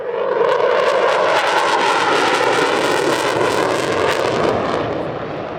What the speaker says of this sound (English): Captain Steven de Vries of the Belgian Air Components F-16AM Fighting Falcon